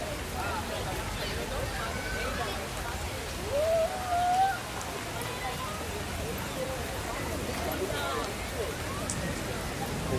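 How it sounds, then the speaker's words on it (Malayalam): Light artificial rain falls in Dubai as a soft, even patter of drops on surfaces. Faint and steady, it continues throughout, with brief background voices midway. "ഇതാണ് മഴ ഇവിടെ"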